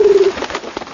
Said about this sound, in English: Getting some doves if we can ever get them back into their cage.